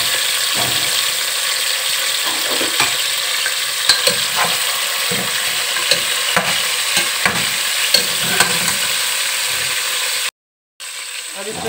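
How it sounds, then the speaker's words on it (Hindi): Onions fry in hot oil, giving a steady, loud sizzle with irregular stirring clicks and scrapes, followed by a brief dropout near the end. "ऑयल डाल दिया है मैंने और अब मैं इसमें डाल रही हूँ प्याज"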